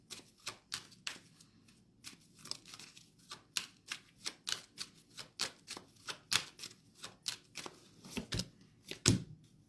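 A deck of playing cards is shuffled up close for card pulls, giving quick, irregular bursts of crisp riffling and snapping in a quiet room with no talking.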